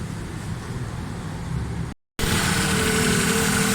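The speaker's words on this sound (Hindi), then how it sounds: "स्टार्ट करते हैं गाड़ी की।" A car engine after carburetor service, fixing a missing pickup and fuel problem: a brief cranking and idle, a short cut-out gap, then a steady, louder idle hum that holds to the end.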